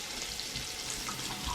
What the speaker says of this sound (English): So a little bit of water, just to loosen up those bits on the bottom.